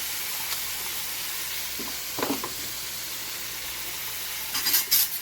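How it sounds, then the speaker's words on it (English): Thin-sliced cheesesteak meat hisses steadily on a hot griddle while two metal spatulas tear at it, giving a few soft scraping clinks amid the constant sizzle. "One for holding the meat still, and the other for tearing meat apart."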